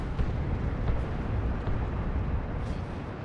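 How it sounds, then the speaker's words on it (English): Creeping artillery barrage in the Warhammer 40,000: Dawn of War 2 real-time strategy game, with a dense, continuous rumble of overlapping explosions at steady loudness and no voices. "Some creeping barrages."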